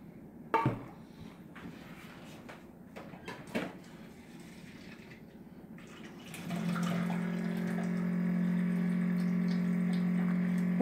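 Water runs steadily into a blender for a carrot and celery smoothie, a continuous close pouring rush that starts partway through after a few knocks and clatters of kitchen handling.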